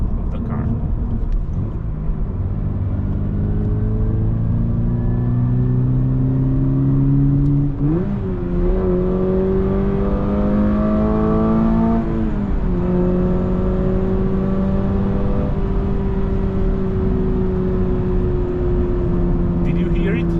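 Engine note of a Toyota GR86 with manual gearbox, piped into the cabin through the speakers: a steady droning tone that climbs in pitch as revs rise, dips at a gear change near the middle, then holds and eases, with a voice talking over it.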